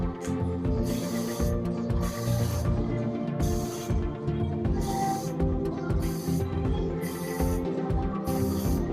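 Repeated short hissing bursts of an aerosol texture spray onto hair with extensions, about eight evenly spaced sprays over steady background noise, close to the listener.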